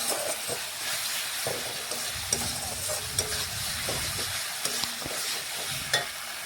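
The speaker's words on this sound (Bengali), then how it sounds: "এখন আমি মটনটাও এর মধ্যে ঢেলে দেব।" Mutton being stirred into spice masala frying in oil, a steady hiss and sizzle with repeated scraping strokes of a spatula in the pan, close and continuous with no talking.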